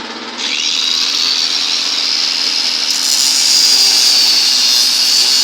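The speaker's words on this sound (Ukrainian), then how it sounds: "Зараз провіримо болгарку." An angle grinder rated 1250 W, powered by a homemade generator, spins up after a brief pause and holds a loud, steady high-pitched whine as it cuts, growing slightly harsher near the end.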